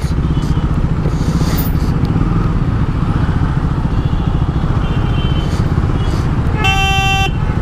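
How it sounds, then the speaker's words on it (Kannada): Dense city road traffic on a Duke 390 motorcycle ride, with steady engine and road rumble throughout and a loud car horn blast near the end. "ಯಾಕ್ರೋ ಇಷ್ಟೊಂದು ಟ್ರಾಫಿಕ್ಕು"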